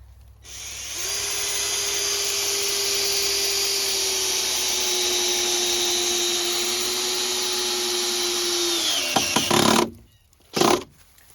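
Power drill driving a screw into a 2x4 while building a crib from pallet wood, a steady whirring hum lasting about eight seconds that winds down into a few clicks and knocks.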